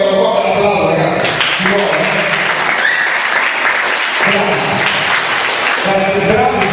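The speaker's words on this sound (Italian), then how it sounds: "eccolo qua per l'applauso ragazzi" A crowd gives sustained, dense applause for class 4C science students at a school competition in Messina, with steady clapping throughout and voices mixed in underneath.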